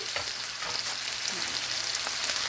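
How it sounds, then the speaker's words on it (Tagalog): Onions and garlic frying in a pan for chicken adobo, a steady close crackling sizzle with occasional stirring scrapes, no talking. "Now let us cook our onions and garlic here."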